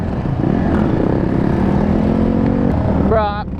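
A Yamaha Banshee 350 quad with no rear brakes roars loudly and steadily up close as it wheelies, the engine noise sustained throughout before a brief voice cuts in at the end.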